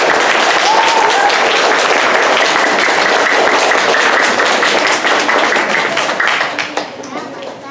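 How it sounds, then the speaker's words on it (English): Audience applauding students on a school stage, sustained dense clapping at close range that stays strong before thinning and tapering off near the end. "Big round of applause for this group."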